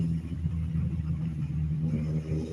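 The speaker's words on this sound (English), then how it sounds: "What is that noise? Motorcycle." A motorcycle passes on a street in Veracruz, Mexico, a faint, steady low engine rumble with a droning tone heard at a distance throughout.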